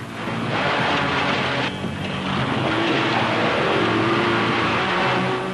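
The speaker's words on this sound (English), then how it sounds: "Out goes Surtees onto a warming-up lap." At Oulton Park's 1971 Spring Trophy, Formula One cars with Ford DFV 3-litre engines head out on a warm-up lap, producing a loud, continuous engine roar that holds steady with a brief dip in the middle.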